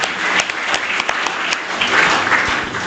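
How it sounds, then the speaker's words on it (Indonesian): A church congregation bursts into loud, sustained applause during an evening prayer service. The dense clapping fills the whole short stretch, with no speech over it. "Mari berikan tepuk tangan yang luar biasa bagi Tuhan."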